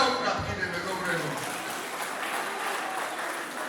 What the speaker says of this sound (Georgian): ერთი ტაში დაუკრათ კიდე მეგობრებო